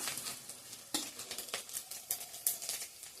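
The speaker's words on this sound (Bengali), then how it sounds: "ভালো করে ভাজা ভাজা হয়ে গেছে শুকটি মাছ, পেঁয়াজ, রসুনগুলা।" Dried fish, onion and garlic fry in a pan with a soft sizzle broken by repeated scraping stirs and light utensil clinks against the metal, close and fairly quiet, with no talk.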